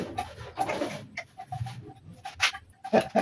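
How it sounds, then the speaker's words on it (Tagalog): Hungry dogs whimper and pant in short, faint bursts with a few quiet whines spread over a few seconds, close by in an otherwise calm outdoor setting. "Gutom na itong mga aso ko."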